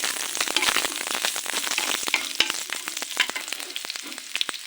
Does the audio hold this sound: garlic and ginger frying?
yes